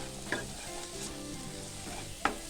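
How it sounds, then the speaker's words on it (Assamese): Spice masala and ghee sizzle softly in a pan while being stirred, a low steady frying hiss with two sharp scraping clicks of the spoon and no talking. "সোৱাদৰ কাৰণে এচামুচ ঘি দি দিছোঁ। আকৌ লৰাই দিম।"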